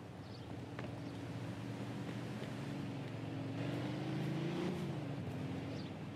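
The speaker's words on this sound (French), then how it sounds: "C'est moi qui conduis ta caisse." Car engine from the game Mafia 2, a steady rumbling drone that rises and swells midway like acceleration, with a whooshing, windy texture and no talk.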